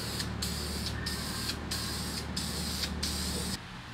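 VHT high-temperature aluminum wheel paint hisses from an aerosol can in about five steady bursts separated by brief pauses, close and loud over a low background drone, on a part for a 1969 Honda CT70.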